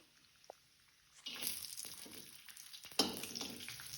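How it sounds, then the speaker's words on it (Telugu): Cashews and raisins drop into hot ghee in a kadai and burst into a loud, steady sizzle, with a second surge of frying about three seconds in after a faint clink at the start. "కడాయి పెట్టుకొని అందులో కొంచెం నెయ్యి వేసుకొని జీడిపప్పు అలాగే ద్రాక్ష వేసుకోవాలి"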